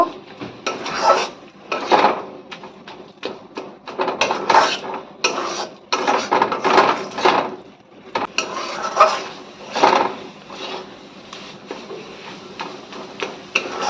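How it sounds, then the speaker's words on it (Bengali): Spice masala for a pointed gourd and prawn dish is stirred and fried in a pan, heard as loud rhythmic metal scraping strokes in repeated bursts with short pauses between. "তো মশলাটাকে ভালো করে কষিয়ে নেব"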